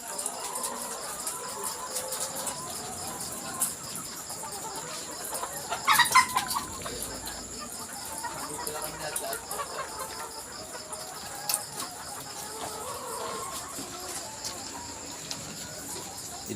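Chickens on a chicken farm make soft, scattered clucks and coos over a constant background hum, with one busier burst of calls midway.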